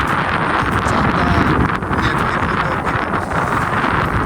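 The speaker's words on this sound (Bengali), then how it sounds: "যে পরিমাণে বাতাস, এই বাতাসের কারণে আপনার ছাতা উল্টে পুল্টে যাবে" Strong, gusty wind blows during rain, roaring steadily and loudly across the microphone with no break.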